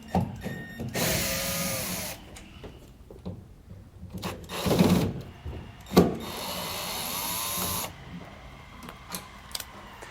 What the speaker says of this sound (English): We're just going to use a Phillips bit to run these out of here.